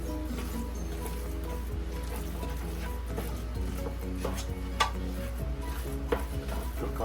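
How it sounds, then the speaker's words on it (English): Seasoning being stirred into a pot of shrimp stew, with soft scraping, clinking and wet squishing from a utensil moving steadily in the pot, over a constant low hum. "Stir it all in."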